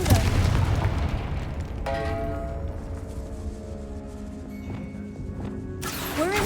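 A Confringo blast spell going off in the Hogwarts Legacy video game: a heavy boom opens, followed by a sustained ringing, tonal magical shimmer and low rumble, with a second burst near the end.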